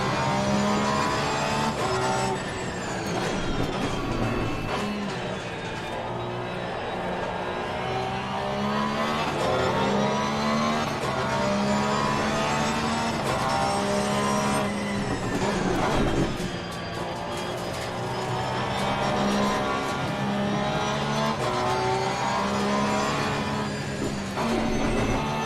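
A race car engine howls steadily through Assetto Corsa Competizione, its pitch rising and falling as the driver shifts and lifts for corners.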